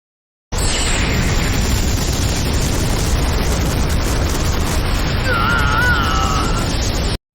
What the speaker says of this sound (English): The explosion is so large that the leaf ninjas can see it, and Kakashi recognizes Deidara's chakra.